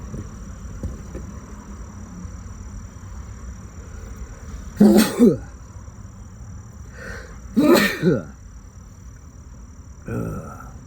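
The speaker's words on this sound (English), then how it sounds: "every morning I wake up sneezing, sniffling" Two loud sneezes a few seconds apart, followed by a softer third one, over a quiet room background.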